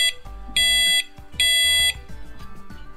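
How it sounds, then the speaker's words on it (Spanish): A homemade Morse code training machine built from electronic circuits gives two loud, steady buzzing tones, each about half a second long, with a brief gap between them and quieter clicks around them. "Y aquí la tenemos, nuestra máquina de entrenamiento de Morse"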